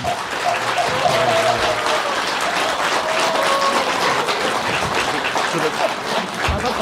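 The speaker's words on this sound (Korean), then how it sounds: "큰 박수 부탁드리겠습니다." An audience at a Buddhist monk's dharma talk gives sustained, full applause for several seconds, dense and even, with faint voices mixed in beneath the clapping.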